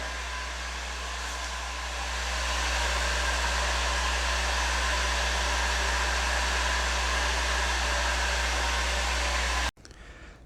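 A Harbor Freight heat gun blows steadily while drying a fresh coating on metal, a loud continuous fan-and-air roar that holds level for about ten seconds before cutting off abruptly.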